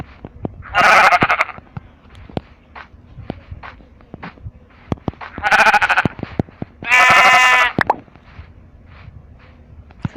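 Sheep in a video game bleat three times in loud, close, wavering calls, separated by sharp clicks and soft thuds.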